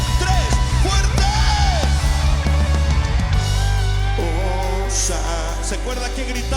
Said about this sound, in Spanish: Me gustaría que la congregación hiciera un fuerte grito de gozo, de victoria y de júbilo.